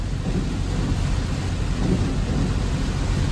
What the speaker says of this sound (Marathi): एवढा जोरात पाऊस चालू आहे